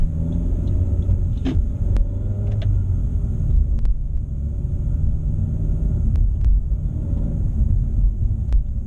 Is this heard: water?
no